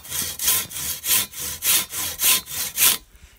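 A Silky Katana Boy 650 folding saw cuts through a split firewood log in quick, short pulls, about eight rhythmic rasping strokes, loud and close, with no talking.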